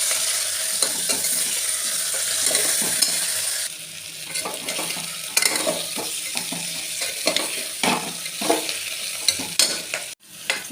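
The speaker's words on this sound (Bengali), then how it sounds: "এবার এটাকে ভালো করে আমি কষিয়ে নেব।" Spice masala with ginger paste, green chilies and sugar is stir-fried in a pan, loud sizzling with repeated scraping strokes of a spatula that ease into quieter frying and end on a sharp clack.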